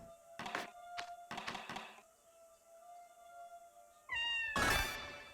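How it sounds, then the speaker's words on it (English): A cat meows in the video game OFF, a short, clear call that rises out of faint background music, preceded by a few soft thunking taps. "I heard a meow."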